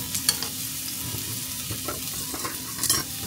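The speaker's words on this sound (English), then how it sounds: "And I'm going to cook the onions until they are translucent." Onions sizzle and fry in a hot pan for kimchi fried rice, with steady crackling and a few sharp stirring scrapes from a wooden spatula, close and alone with no talk.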